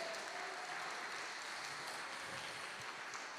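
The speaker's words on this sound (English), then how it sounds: "let's give them a round of applause." Audience applause for a family called up at a farewell gathering: steady, dense clapping that stays loud and even across the whole clip, with no talk over it.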